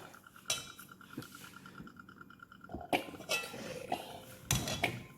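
Rice being stirred in a pot with cilantro and culantro for Puerto Rican yellow rice with luncheon meat, giving irregular metal clinks and scrapes of a utensil against the pot, fairly close, with no talk.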